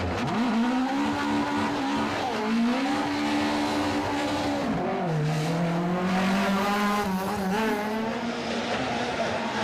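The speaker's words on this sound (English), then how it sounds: "despite this hard revving spin on Moll's Gap" A rally car from a historic rally on Moll's Gap revs hard through a spin, its engine note rising and falling continuously while tyres squeal throughout, loud and close with no talk.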